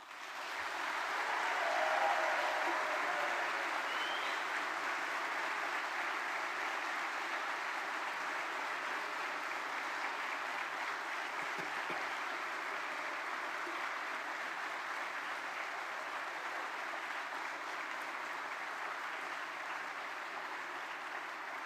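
A graduation ceremony audience applauds in a sustained, dense wash of clapping that swells in the first couple of seconds and holds steady, gradually easing, with no talk over it.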